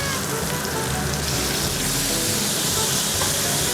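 A ribeye steak sizzles loudly and steadily in a frying pan just after being flipped, a dense, continuous crackle that lasts the whole stretch.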